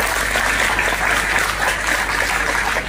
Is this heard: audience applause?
yes